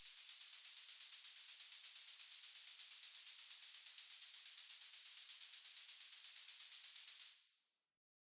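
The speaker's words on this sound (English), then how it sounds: "And I also added some white noise just to kind of create some extra transients." White noise added as a layer in a progressive trance remix, sounding as a bright, hissy wash chopped into rapid, even pulses that runs steadily for about seven seconds and then fades out.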